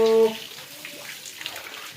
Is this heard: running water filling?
yes